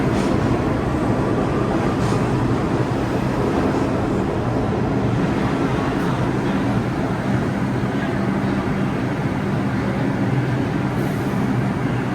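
A train rumbles steadily in the Bronx, New York City, a loud, continuous roar with a broad rushing noise for the whole stretch and no clear gaps.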